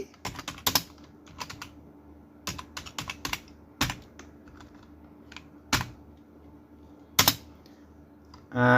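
Keys tapped on a computer keyboard while entering names into a form, coming in short bursts of quick clicks separated by pauses, close and fairly quiet.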